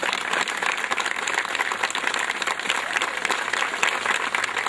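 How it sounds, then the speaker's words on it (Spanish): A crowd at a cycling tour gathering in San Guillermo gives a strong round of applause in memory of a mother, a continuous, lively wash of clapping with no break. "Otro fuerte aplauso para la memoria de tu madre."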